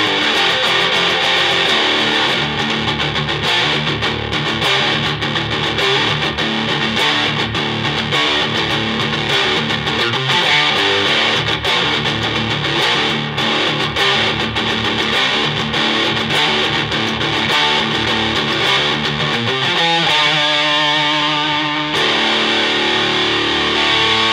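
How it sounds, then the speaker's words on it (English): An electric guitar played through a Fiery Eye DIY distortion pedal, loud, dense and heavily saturated for the whole stretch, with a brief change in tone near the end. "Pedal just gives me a ridiculous amount of distortion at my beck and call"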